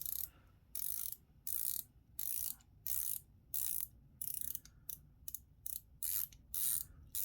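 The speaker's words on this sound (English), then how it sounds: "Now let's check out the quality of that bezel. So as I mentioned, 120 clicks." An aftermarket homage dive watch's 120-click bezel turning in repeated ratcheting bursts, about a dozen short runs of fine, rapid close-up clicks separated by brief pauses, with no talking.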